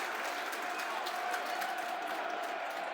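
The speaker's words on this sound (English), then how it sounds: "You can hear the applause all around me." Stadium crowd at a Millwall versus West Bromwich Albion football match breaking into broad, continuous applause, a dense wash of clapping and crowd noise all around at steady volume for a few seconds.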